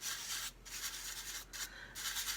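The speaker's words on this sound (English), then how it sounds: "you can go in with a little piece of sandpaper and just very, very lightly" Sandpaper is rubbed lightly over a laser-engraved photo, making soft, close, hissing scratches in about four back-and-forth strokes separated by short gaps.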